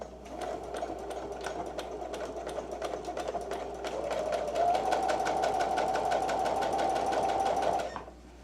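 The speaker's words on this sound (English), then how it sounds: "gonna stitch 1/8 of an inch from the edge" Sewing machine running steadily for about eight seconds, stitching work pants near the zipper, its rapid even needle clatter speeding up slightly midway before stopping abruptly, close up with no talking.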